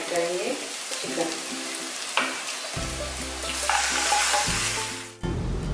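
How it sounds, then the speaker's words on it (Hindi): Chicken and onions stir-fry in a pan for a murgh chanay dish, a continuous loud sizzle with scraping stirring strokes and shifting hiss, close up and without talk. "अब चिकन और प्याज को अच्छी तरह मिक्स कर लें।"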